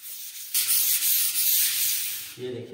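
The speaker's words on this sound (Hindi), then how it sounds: "ऐसे ऐसे हाथ रख लो और ऐसे ऐसे रख रहे, हल्के हाथ से रगड़ना, ज़्यादा दबा कर नहीं रगड़ना" Wall putty being hand sanded with light pressure, a steady close rasping scrape lasting about two seconds, followed by a brief voice.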